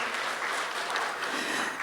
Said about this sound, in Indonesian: Tepuk tangan dulu untuk Kakanda Ketua.